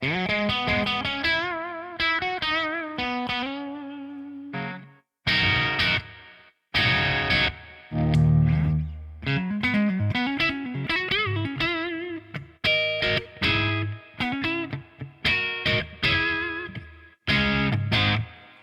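An electric guitar plays a run of chords and melodic phrases through a BluGuitar Amp1 Iridium Edition, clean and warm, notes ringing out with a noticeable reverb wash and brief pauses between phrases.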